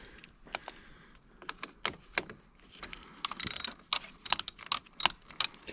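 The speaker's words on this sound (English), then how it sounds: "You're going to tighten that with a 10mm socket." A ratchet with a 10mm socket on a wobble extension tightens a car headlight bolt, giving quiet runs of sharp clicking pawl ticks in short irregular bursts, close and alone.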